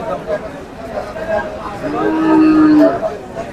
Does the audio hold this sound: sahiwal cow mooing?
yes